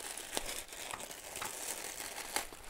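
Small plastic parcel bag from AliExpress being handled, giving faint, close crinkling and rustling with a few sharper crackles throughout.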